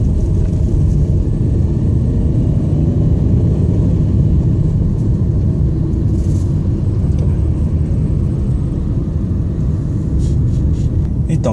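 Inside a Hyundai HB20 with the 1.0 engine, a steady low rumble of engine and road noise fills the cabin at constant level throughout, with faint higher hiss.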